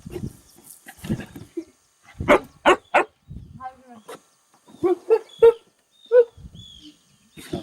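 A dog barks in short, loud repeated bursts in a home full of dogs with a visitor present, and people talk between and over the barks.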